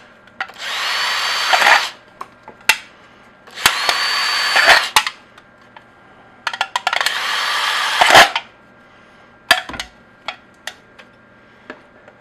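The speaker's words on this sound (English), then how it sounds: "I just use a drill to drill a 1/4 inch hole" A cordless power drill drills a quarter-inch hole into an aluminum soda can in three loud whirring bursts of about a second and a half each, separated by short pauses and followed by scattered clicks and taps.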